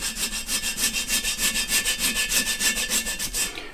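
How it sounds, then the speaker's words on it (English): Bondo filler on a curb-rashed wheel rim is sanded by hand in quick, even back-and-forth strokes, a close rhythmic rasping with no pauses. "I'm not being shy about blending this Bondo out"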